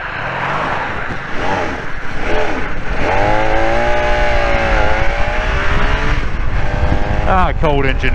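A cold motorcycle engine idles and revs loudly up close at a bike night, its pitch rising and falling, with people talking over it and a brief rev near the end.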